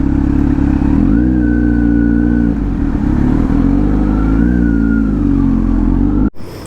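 Motorcycle engine running steadily and loud, with a couple of revs lifting its pitch, then cutting off abruptly near the end.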